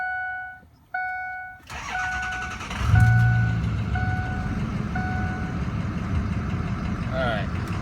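A lifted 2005 Ford F250 4x4 with Fox suspension: a few chime beeps sound first, then the engine cranks and catches with a loud roar, then settles into a steady, rumbling diesel-like idle close by.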